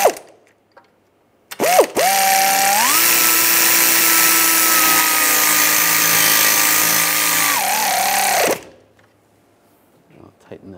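A power tool runs in one sustained whining burst of about seven seconds, tightening sway bar link nuts on a 2006-2009 Mercedes-Benz E350, with short clicks before it and brief handling noises after, loud and close.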